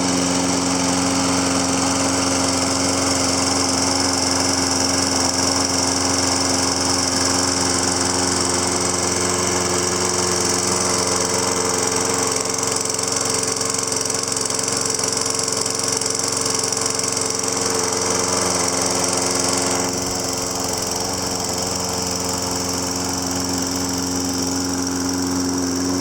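A Toro Recycler lawn mower engine runs steadily and loudly while warming up, a continuous high buzzing drone that shifts slightly in tone near the end.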